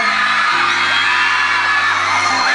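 Dense crowd at a shopping mall shrieking and cheering for a celebrity at Isetann Recto during the Christmas season, a continuous loud wall of high-pitched screams and whoops with a low hum beneath.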